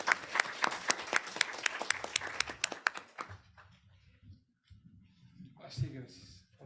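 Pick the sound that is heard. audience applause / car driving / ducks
audience applause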